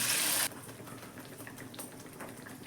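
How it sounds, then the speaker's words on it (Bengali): Onion and tomato paste added to a hot pan with cardamom, cinnamon and cloves for yogurt chicken: a loud hissing sizzle for half a second, then a quieter steady frying crackle. "এবার পেস্ট করা পেঁয়াজ আর টমেটো দিয়ে দিলাম"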